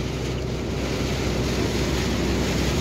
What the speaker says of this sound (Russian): Это дождик начался.